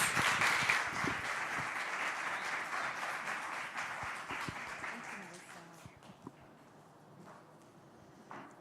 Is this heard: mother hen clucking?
no